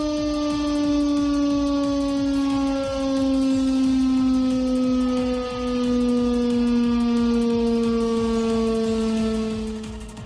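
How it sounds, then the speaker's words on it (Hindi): A loud Pakistani wartime civil defense siren, in an area near the Indian border, wails continuously, its steady howling tone rising and falling slightly over the whole stretch, with no voices. "वॉर सायरन बजता हुआ आपको सुनाई पड़ेगा।"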